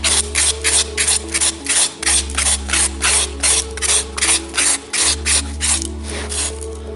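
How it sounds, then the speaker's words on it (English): Sandpaper held between the fingers rubbing over a sculpture in quick back-and-forth strokes, a close, loud, rhythmic rasping scratch repeating about three times per second over a low steady hum. "For fine detail, I normally cut the corners off my grade of sandpaper, hold it between your fingers like that"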